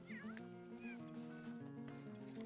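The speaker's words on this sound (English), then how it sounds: "You have to stop this cat. It's gonna destroy the bed." Game cat in The Sims 3 meowing and caterwauling repeatedly with rising, wavering cries over steady in-game background music, close and clear.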